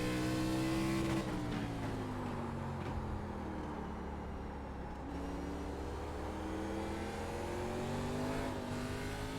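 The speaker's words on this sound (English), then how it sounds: "You could hear the engine just start revving up and the car start getting sideways." A race car in iRacing at the Martinsville short track revs hard as it gets sideways, its engine note climbing and dipping with gear changes; loud and close, no talking.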